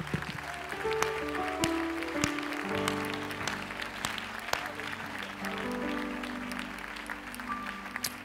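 Worshippers in a church clap their hands to the Lord, a broad patter of many palms running throughout over sustained organ or keyboard chords, with no one speaking over it.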